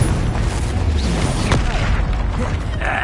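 Fiery spell blasts from Confringo in the wizarding game Hogwarts Legacy, a dense roaring boom with sharp crackling bursts amid ongoing combat effects, loud and close throughout.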